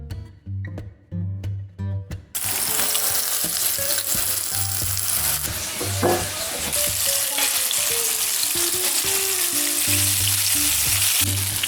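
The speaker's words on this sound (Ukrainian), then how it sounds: "Крильці смажиться на пательні" Loud, steady sizzling of chicken wings frying in a pan, beginning after a few soft knocks and continuing without pause, close up, no voices.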